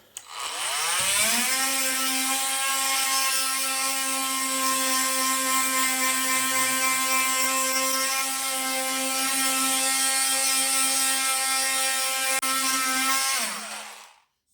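A Parkside PAMFW 12 C3 cordless multi-tool sands with P120 paper, its steady high buzzing whine running loud and unbroken for about twelve seconds before winding down.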